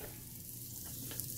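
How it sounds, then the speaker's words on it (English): Butter sizzles steadily in a copper pan over high heat before a steak is cooked, a close, even hiss with no talking. "you can hear that butter sizzling."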